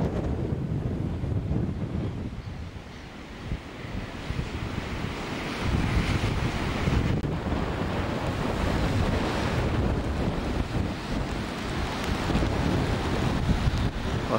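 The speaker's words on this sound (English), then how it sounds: "It's very wet and cold and windy." Heavy surf and gusting wind at the Bay of Islands on the Great Ocean Road, wet and cold weather; continuous loud roar of waves with wind buffeting the microphone throughout, no voices.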